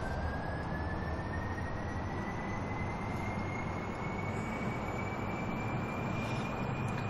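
Jet engines of a heavy single-stage-to-orbit spaceplane roar at full throttle during takeoff in Kerbal Space Program, a steady loud broadband rumble with a slowly rising whine, no voices.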